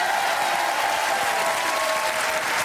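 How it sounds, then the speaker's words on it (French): A television studio audience claps for Brittany, a dense, sustained burst of applause at steady strength from start to finish, with a faint tonal hum beneath. "On applaudit la Bretagne."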